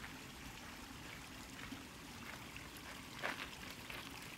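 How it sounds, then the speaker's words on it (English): A small creek along the Colorado Trail trickles and burbles quietly in a steady faint wash, with no one talking. "I'm at the place where we agreed to stop for the day near a little stream"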